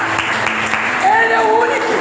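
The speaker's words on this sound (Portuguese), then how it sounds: "Se você crê, aplauda ao Senhor" Congregation applauding during a Portuguese-language church service, steady clapping mixed with voices and a rising sung or shouted tone partway through.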